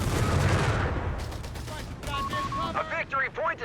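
Rocket artillery barrage from a Stuka zu Fuss in the strategy game Company of Heroes 3, a dense rumbling roll of blasts for over a second, fading into quieter game noise with voices speaking over it.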